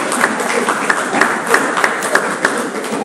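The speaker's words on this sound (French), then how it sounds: "Applaudissez quand même pour les groupes" An audience at an academic defense applauds the presenting groups, dense overlapping clapping with a few sharper individual claps standing out, loud and close, ending abruptly.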